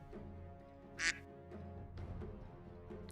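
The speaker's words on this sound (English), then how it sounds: "Quack. Quack indeed." A single short duck quack sound effect pops out over a Dota 2 stream's low background game audio, loud against the faint bed and brief.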